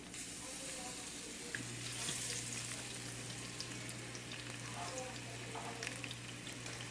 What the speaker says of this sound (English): I'm gonna go ahead and lay my salmon down, skin down first.